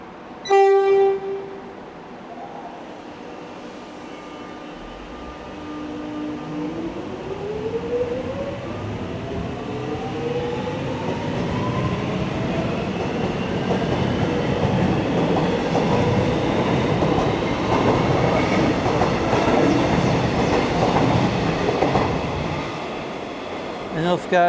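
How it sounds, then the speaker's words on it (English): Suburban train departing Box Hill station, opening with a short horn blast, then rising motor whine and growing wheel rumble and rail clatter as it pulls away close by, fading slightly at the end. "And off goes that train."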